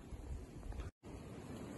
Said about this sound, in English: it's still pretty windy out here